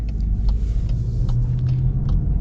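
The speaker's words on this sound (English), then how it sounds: "Very quick with the downshifts, which is always a big plus in my opinion." A 2024 VW GTI with a DSG gearbox accelerates with a steady, loud low engine rumble throughout. Faint brief clicks or shift blips punctuate the drone, with no talking.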